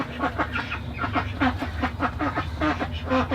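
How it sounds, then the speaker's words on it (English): Ducks quack repeatedly in a garden root-washing station used for bonsai repotting, a busy run of close, fairly loud calls with no talking. "the ducks are all in my washing station I use to wash my roots off when I'm repotting"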